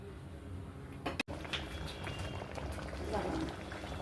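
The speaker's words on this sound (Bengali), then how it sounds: "মুগের ডালটা সিদ্ধ করবো যাতে মুগের ডালের ভেতরে এই আদা অ্যারোমাটা ঢুকে যায়" Moong dal with ginger simmers in water inside a covered pot, giving a faint, steady bubbling hiss with a single sharp knock near the start, all at low volume.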